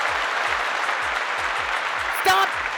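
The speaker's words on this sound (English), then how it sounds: "Stop clapping!" An audience claps steadily and densely, loud and close, with a short sharp sound near the end.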